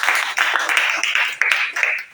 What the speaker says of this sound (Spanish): Un aplauso a Dios, hermano